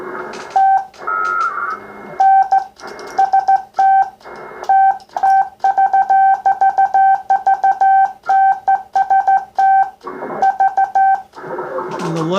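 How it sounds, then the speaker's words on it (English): A Kenwood T-599 transmitter in CW mode gives a clear, loud keyed side tone, short and long beeps in irregular Morse rhythm over a faint background, with brief murmurs between groups. "if you want to hear the side tone, I can turn the carrier level down"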